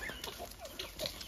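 Chickens on a small farm clucking and peeping faintly as corn is scattered for them, with short soft calls spread across the moment.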